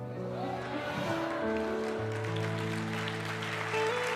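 Clapping from a crowd blends with sustained keyboard chords, a steady wash of applause under the music throughout, during a church sermon.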